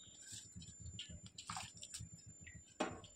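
Water boils in a pot before foxtail millet rice is added, a faint, soft bubbling with a steady low pulsing rhythm and a few small splashy pops.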